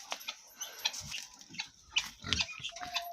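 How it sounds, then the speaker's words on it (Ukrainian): Pigs grunt and snort in short irregular bursts close by, with some rustling and shuffling movement between the sounds. "Свині хру-хру."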